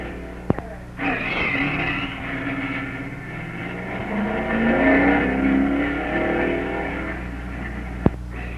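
Sports cars and stock cars drag racing at the Nationals: a car engine roars up at launch and drones on with rising revs, with sharp clicks at the start and near the end over a low hum.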